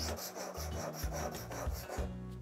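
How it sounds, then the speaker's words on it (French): A knife blade is drawn across a sharpening stone with steady back-and-forth rubbing strokes, about two per second, close up and fairly quiet, using lighter pressure for the finishing passes. "Maintenant, je veux affiner mon affûtage."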